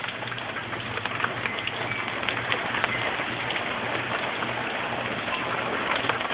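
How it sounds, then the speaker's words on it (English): Steady rain pours during Tropical Storm Isaac, a dense, even hiss that never lets up, with a faint low hum running underneath and no voices. "Wind and rain, rain and wind,"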